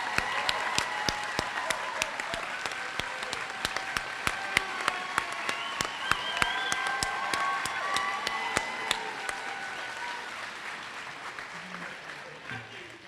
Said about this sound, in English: please give our traditional ASN students a round of applause